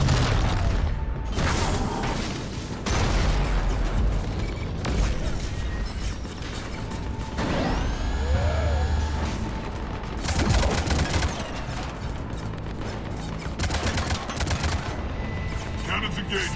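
Cannons fire in the video game Mass Effect 3 during a fight against an Atlas on Omega, with loud repeated booming blasts and mechanical whirs over a dense battle bed and game voices.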